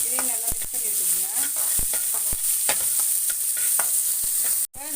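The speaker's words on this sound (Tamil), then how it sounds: "இப்போ இதை நல்லா வதக்கி விட்டுக்குங்க." Onions and chana dal sauté in hot oil for puffed rice upma, with a steady bright sizzle and repeated sharp spatula scrapes and taps on the pan throughout, close by. Faint vocal sounds in the background.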